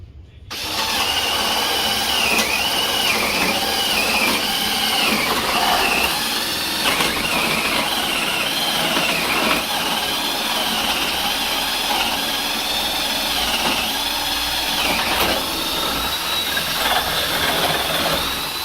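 A power drill with a 3/4 inch bore bit bores holes in a room being wired, producing a continuous, loud, high-pitched whine with slight wavering pitch as the bit cuts through.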